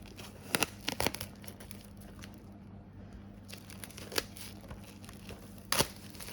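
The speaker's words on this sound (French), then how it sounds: "le steelbook est maintenant déblisté" Plastic film being unwrapped from a 4K steelbook case: a few brief, sharp crinkling bursts separated by quiet gaps, close and faint.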